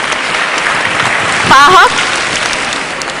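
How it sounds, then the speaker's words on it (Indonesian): Audience applause at a talk-show style interview, a steady broadband wash of clapping filling the clip, with a brief spoken phrase cutting through near the middle. "Boleh tepuk tangan, Dahlan Iskan."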